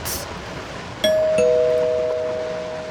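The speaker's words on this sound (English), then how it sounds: "The doorbell again." A doorbell in the horror game Suffer The Night chimes a clear two-note ding-dong, both tones ringing out loudly and fading slowly over a quiet room hum.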